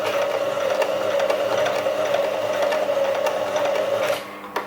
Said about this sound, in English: So I'm doing a reverse sew at the beginning